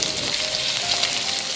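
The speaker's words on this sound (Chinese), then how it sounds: "鱼骨先给它放在去煎一下" Fish bones fry in hot oil in a pan, making a steady dense sizzle close up that holds for a short stretch, with no talking.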